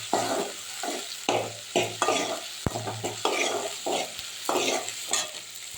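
Green chili, onion and vegetables sauté in a pan for a green pea and vegetable gravy, rhythmic spoon stirring over a steady sizzle with sharp metallic clinks against the pan.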